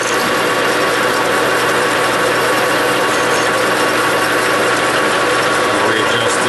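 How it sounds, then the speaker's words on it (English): Metal lathe running in a machine shop while parts for a check maker are machined, giving a steady, even mechanical whir and hum with no speech. "So let's turn on the lathe."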